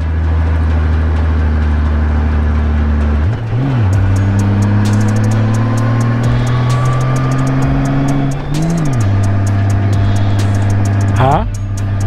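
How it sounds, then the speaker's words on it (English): A car pulls out and accelerates nearby, recorded from a riding motorcycle. A steady loud engine drone rises in pitch twice as it revs up through gears, with wind noise throughout. "Car pulling out."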